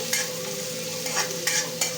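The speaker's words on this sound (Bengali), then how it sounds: "সবজিগুলো মোটামুটি ভাজা হয়ে গেছে" Vegetables for dalia stir-fry in a pan, crackling with a continuous sizzle and sharp scraping strokes from a spatula at a quick, uneven pace.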